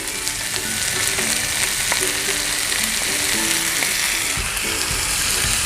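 Tomatoes go into a pan of frying goat meat and spices, a loud continuous sizzle close up with scattered stirring clacks and scrapes, no voices.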